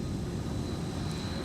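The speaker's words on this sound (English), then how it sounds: "Delta 171 off to Seoul, South Korea, departing runway 22" Delta 171, a heavy jet bound for Seoul, South Korea, departs runway 22 at MSP airport, its engine roar a steady, broadband rumble that stays loud and unbroken throughout.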